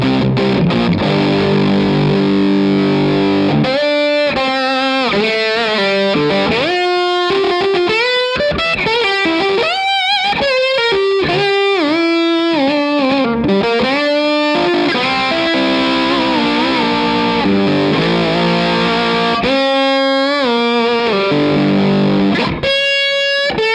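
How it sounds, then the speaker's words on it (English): Electric guitar played through a 29 Pedals FLWR pedal with gain cranked into heavy fuzz distortion, a thick buzzing tone with sustained notes, bends and quick runs, loud with no talking. "having the gain knob cranked like this, it gets into a very fuzzy distortion territory"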